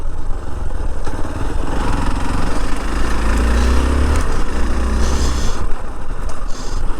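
A Hero Xpulse off-road motorcycle engine drones loudly and steadily while riding, with rough wind buffeting and a slight rise and fall in revs throughout.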